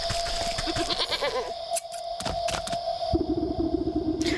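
In Wytchwood, a goat lets out wavering, quavering bleats as scissors cut its dirty hair, with a couple of close cries over background game sounds and brief snipping clicks.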